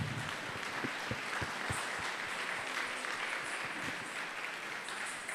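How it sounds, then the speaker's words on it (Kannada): An audience claps after a Kathak dance performance at an event in Sirsi, a dense, steady wash of applause from many hands, moderately distant and unbroken. "ಒಂದು ಸಲ ಎದ್ದು ನಿಂತು ಚಪ್ಪಾಳೆಯನ್ನು ಹೊಡೆಯೋಣ"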